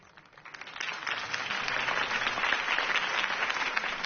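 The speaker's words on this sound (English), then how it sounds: "If only Mr. Wayne, my campaign's largest backer, could have heard that applause" A crowd applauds Harvey Dent's campaign speech in Batman: The Telltale Series, a broad wash of clapping that swells from quiet to full and holds steady, band-limited and even.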